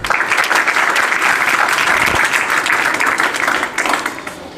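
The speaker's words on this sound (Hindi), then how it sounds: "बजा दो तालियां।" Group clapping breaks out at an indoor gathering, a dense, loud and even wash of applause that tapers slightly near the end.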